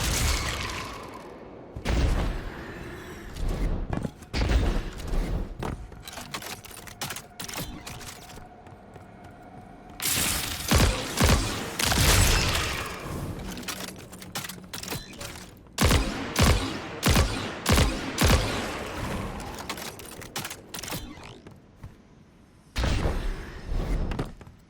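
Bursts of gunfire in Destiny 2 aimed at swarming moths, loud clusters of rapid shots separated by quieter gaps, with heavier booms and thuds mixed in and no talking.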